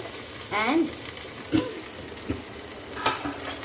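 Food fries in ghee in a pan, a close sizzle broken by a few clinking stirs and short scrapes, with brief voice-like sounds in the background.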